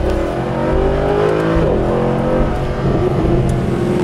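A Mercedes-Benz SLS AMG sports car engine roars loud and sustained, climbing and shifting in pitch as it accelerates hard, steady and close throughout.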